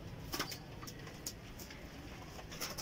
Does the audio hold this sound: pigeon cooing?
yes